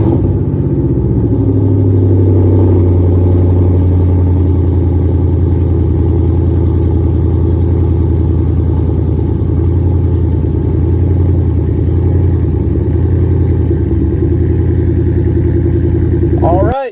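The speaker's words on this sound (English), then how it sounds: "We're going to listen for, well, the motor to work, for anything falling off, any bolts, anything." Ford Mustang engine with a newly installed motor and new wheels running steadily on a test drive, a loud continuous low rumble that holds even throughout, with a brief change at the very end.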